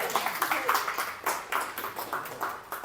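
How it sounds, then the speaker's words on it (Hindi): An audience at a stand-up comedy show claps in a quick, uneven patter of hand claps that rise and fall in small bursts, moderately close and fairly soft, with no voices over it. "तालियां बजा सकते हो।"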